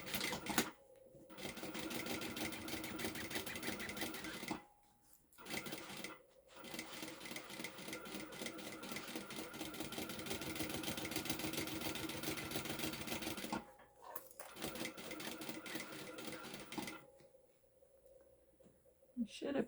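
Sewing machine running a long basting stitch on a fabric bag, rapid continuous mechanical stitching in several bursts with short pauses between, close and fairly loud.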